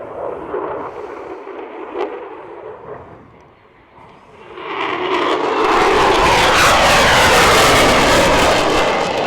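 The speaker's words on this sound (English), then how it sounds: "It really is an impressive aircraft to see live." A fixed-wing aircraft performs at an air show, a roaring engine that fades briefly then swells into a loud, broad, sustained rush as it passes close overhead.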